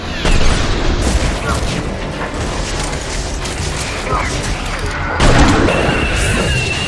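Missiles launching and detonating in Mass Effect 3 on Thessia, a dense continuous roar of blasts, crashes and mechanical clatter with heavier bursts near the start and again toward the end, with voices talking over the din.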